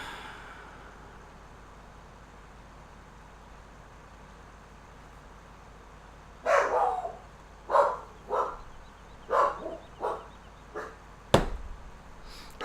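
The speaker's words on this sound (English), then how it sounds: "And that'd be my dog." A pet dog barks in the room, several sharp separate barks spread over a few seconds after a long quiet stretch, fairly close and loud against faint background hum.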